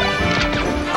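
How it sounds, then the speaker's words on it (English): Captain Falcon's knee attack landing in a Super Smash Bros. match, a loud, sharp smash-like impact burst over the continuous game noise and crowd ambience, lasting about a second. "Captain Falcon's knee just sounds so painful."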